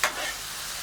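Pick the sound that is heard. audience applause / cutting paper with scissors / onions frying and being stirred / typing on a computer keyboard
onions frying and being stirred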